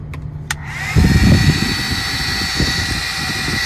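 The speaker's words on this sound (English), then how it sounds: "So this one has a more powerful fan, which is good, but the problem is that it's louder." A steady, loud whooshing fan hum from a 12-volt car heater runs continuously, with a brief click near the start as it switches on and settles into a constant drone.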